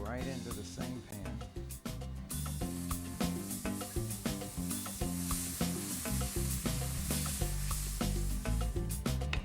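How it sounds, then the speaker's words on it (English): Salsa hits a hot pan in a Mexican home kitchen for bistec a la mexicana, giving a steady sizzling hiss that holds for several seconds beneath a loud bed of music. "I'm going to pick up the salsa and go right into the same pan"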